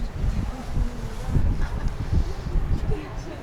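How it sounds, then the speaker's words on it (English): Wind blowing outdoors through the old town of Frankfurt am Main, a steady low rumbling buffet that fills the whole stretch, loud and close with gusty swells. "It's a bit windy."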